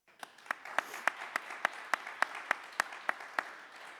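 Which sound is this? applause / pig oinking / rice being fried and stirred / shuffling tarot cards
applause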